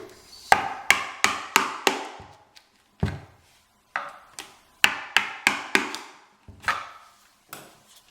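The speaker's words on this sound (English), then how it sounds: "I'm taking a flat screwdriver and putting it in the joint between the base shoe and the baseboard and separating it out" A flat screwdriver pries a wooden base shoe away from a bathroom baseboard, giving a run of sharp wooden cracks and knocks in quick bursts, close and fairly loud, with short pauses between groups.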